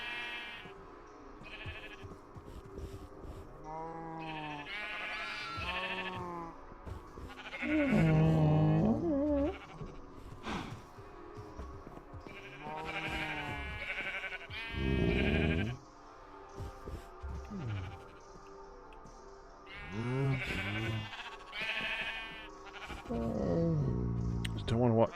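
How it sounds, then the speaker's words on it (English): Sheep in the video game Minecraft, repeated bleats and grazing sounds at varying distances, heard between stretches of people talking. "I keep hearing sheep eating over there."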